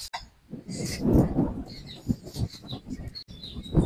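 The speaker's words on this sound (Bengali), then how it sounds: "পাখিটা বাসা করতেছে বাসার ভিতরে" Small bird calling at a nest under construction, with short, faint high chirps scattered among low rustling and handling noises close by.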